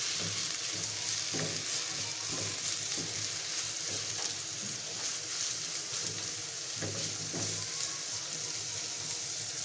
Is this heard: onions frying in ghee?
yes